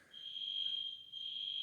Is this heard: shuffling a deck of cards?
no